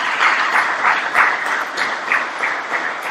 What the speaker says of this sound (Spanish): Un gran aplauso también desde Buenos Aires.